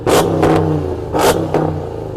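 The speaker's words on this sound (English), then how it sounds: "This truck sounds epic. Go on, let's have a listen. Rev it up." A Hennessy Mammoth pickup, built on the Dodge Ram TRX, roars loudly up close as its engine is revved in two hard bursts, each surge rising and falling back to a deep, rumbling idle.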